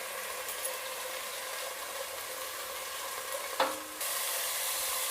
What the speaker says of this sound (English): Now we add almost 7 to 8 diced garlic.